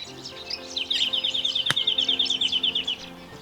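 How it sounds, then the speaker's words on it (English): A Jacky Winter sings a rapid, evenly repeated series of bright chirps close by, with fainter songlark calls behind it and one sharp click midway. "If you listen carefully, there is also a songlark calling in the background"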